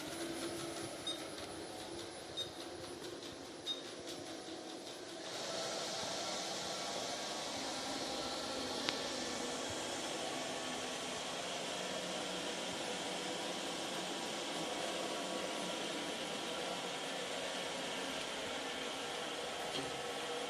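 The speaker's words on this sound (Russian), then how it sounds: "Давайте посмотрим, как работает робот-пылесос с AliExpress на деле." A robot vacuum cleaner bought from AliExpress runs steadily with a broadband whirring hiss that grows louder and fuller after a few seconds, then holds constant without talk.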